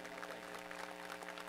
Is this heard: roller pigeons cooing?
no